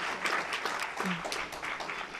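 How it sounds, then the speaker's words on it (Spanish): Church congregation applauding together in a large room, a steady rush of many hands clapping at once that holds at an even level for about two seconds. "Pero dele un aplauso a Dios."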